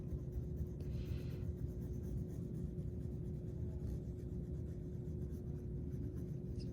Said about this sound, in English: I'm doing multiple layers till the paper almost looks shiny with how much wax and color I'm putting on it